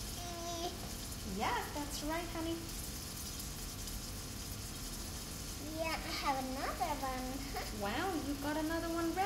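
Pork pies fry and sizzle steadily in a pan, a broad constant hiss running underneath as a child's and an adult's voices talk over it at intervals.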